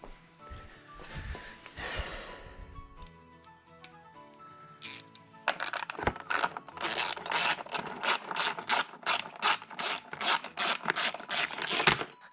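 A ratchet wrench backing out 8mm bolts from the seat of a 2018 Kawasaki KLX140L dirt bike: quiet fumbling first, then a steady run of close, rhythmic ratcheting clicks that speeds up toward the end.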